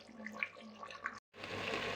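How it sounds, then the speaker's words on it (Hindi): Water poured into a pan of fried desi chicken curry, a soft splashing gush that briefly cuts out, then resumes as a steadier flowing wash, close and fairly quiet. "अब हम इसमें पानी डालेंगे अपनी ज़रूरत के मुताबिक।"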